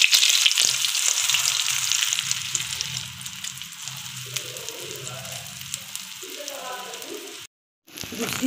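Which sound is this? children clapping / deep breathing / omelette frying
omelette frying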